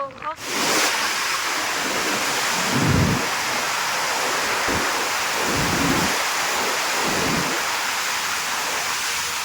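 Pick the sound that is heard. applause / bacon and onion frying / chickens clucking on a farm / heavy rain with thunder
heavy rain with thunder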